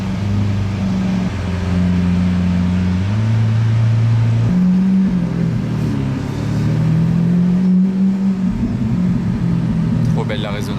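A supercar engine, here a Pagani Zonda, revs with a loud, resonating roar that rises and falls in pitch, with people talking over it.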